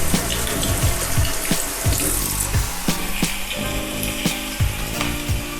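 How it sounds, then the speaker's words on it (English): Pork chops brown in a hot frying pan with a steady, close sizzle and crackle, broken by sharp taps and clinks of a utensil knocking against the pan. "we're going to brown those for 2 to 3 minutes per side"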